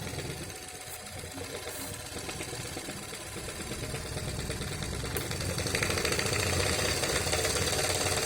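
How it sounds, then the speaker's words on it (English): A small electric motor in a low-cost science experiment hums and buzzes continuously, growing slightly louder and busier as the voltage is increased, close up with faint talk underneath. "if I am going to increase the voltage, how the motor is going to work"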